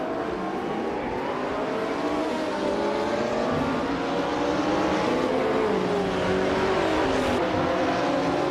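Ferrari 288 GTO Evoluzione race car from 1984 racing in a video game, its engine droning steadily and loud with shifting revs and harmonic whine throughout, no voices.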